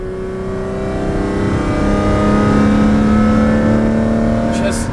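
A Ferrari Formula One engine revs loudly and steadily with a high wailing tone that climbs and holds, close by and filling the whole stretch.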